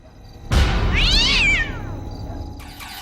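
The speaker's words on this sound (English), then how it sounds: "A black cat comes out and startles the woman." A black cat lets out a single loud, drawn-out meow that rises and falls, close by against a low background rumble, followed by quiet.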